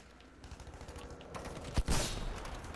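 Gunfire in Battlefield 5, a brief burst of shots crackling amid a busy mix, with the sharpest loud cracks clustered near the end of the short moment.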